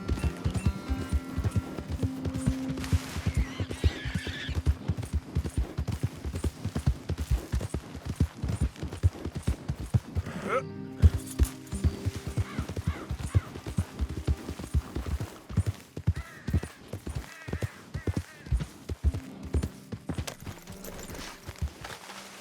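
A horse gallops in Red Dead Redemption 2, rapid rhythmic hoofbeats over a continuous background hum, the pace easing and softening toward the end.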